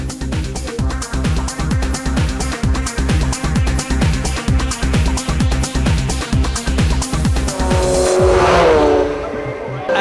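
Race cars at Snetterton racetrack in a Uniroyal Fun Cup round roar past in loud, closely packed engine pulses, with a rising whine and tire noise near the end.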